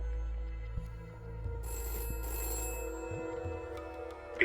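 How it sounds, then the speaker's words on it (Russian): Telephone ringing inside the video game We Happy Few, a faint electronic bell tone among low hums, soft thumps and background game noise. "телефон звонил"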